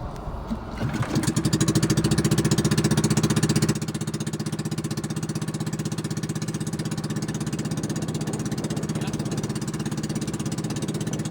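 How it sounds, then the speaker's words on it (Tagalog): An engine cranks and catches, then settles into a loud, steady rhythmic chugging close by, running alone without voices for the rest of the stretch. "paandar na lang ng makina"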